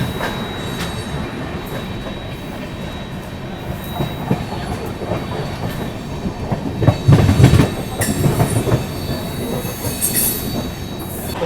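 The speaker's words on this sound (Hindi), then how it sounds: "लगभग 15 मिनट रुकने के बाद अभी अपनी ट्रेन निकल रही है" The Brahmaputra Mail train pulls out of a station with rumbling wagons, rhythmic clickety-clack from the wheels and bursts of high metallic wheel squeal, growing louder toward the middle and staying close and continuous.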